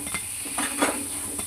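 Golden-red fried chickpea fritters and vegetables are lifted out of a karai onto a plate, with steady hot-oil sizzle and a few light clinks of a utensil against metal.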